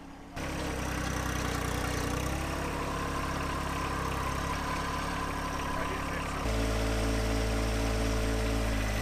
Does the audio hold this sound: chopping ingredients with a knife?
no